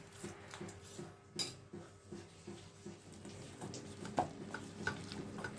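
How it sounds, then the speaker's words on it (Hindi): A spoon scrapes and taps in a rhythmic stirring pattern while a child mixes a paste of coffee, fenugreek and henna in a bowl, quiet and close, with a few sharper clinks. "मेरा बेटा मिक्स कर रहा है"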